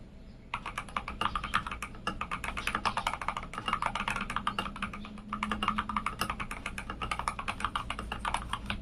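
Steady, rapid typing on a mechanical keyboard, close and clear, with dense clicky keystrokes continuing throughout and no voices.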